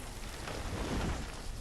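Rain falls steadily in the video game Banished, a soft even hiss of ambient rainfall that is faint and continuous, with no other sounds.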